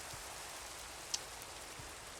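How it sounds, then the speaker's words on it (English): Rain in Minecraft falls as a soft, steady hiss, faint and even throughout, with one brief click partway through. "ooh, the rain got quiet."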